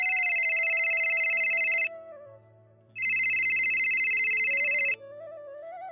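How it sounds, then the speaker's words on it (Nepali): A telephone rings with an electronic ringtone: two long, loud bursts separated by a short pause, over a faint low background tone. No voices are heard. "एकाग्र मन झस्किन्छ फोनको घन्टीले।"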